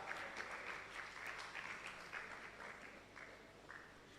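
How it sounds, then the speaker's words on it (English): An audience claps steadily for a university faculty dean introduced at an International Women's Day celebration, a continuous faint patter of many hands with some sharper individual claps toward the end. "Please clap for her."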